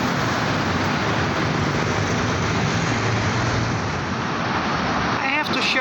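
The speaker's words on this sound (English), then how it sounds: "you have a lot of traffic and noise" Dense road traffic on a Bangkok street makes a loud, continuous roar and rumble of passing vehicles, unbroken throughout.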